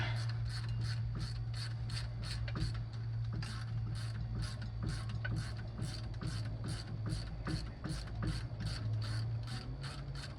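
Steady rapid ratchet clicking as a 1956 Chevy 210 generator's mounting bolts are backed all the way out, dense repeated clicks for the whole stretch over a low constant hum, close and fairly loud.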